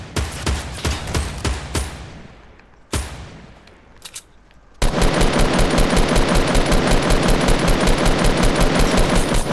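Gunfire in the video game Fortnite, with several loud bursts of rapid shots and a couple of isolated cracks, then a long stretch of sustained, evenly spaced automatic fire.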